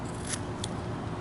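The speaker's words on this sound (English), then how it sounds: "Shear and cut into it" Two quick, close snips of shears cutting into a carved figure, each a short bright crunch over a low steady background hum.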